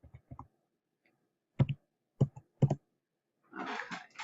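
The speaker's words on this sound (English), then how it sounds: "you would type a comma to separate them." Quiet computer keyboard typing while entering terms of the quadratic formula, with a few separate clicks and short double taps spaced apart, then a brief rustling burst at the end, with no talk.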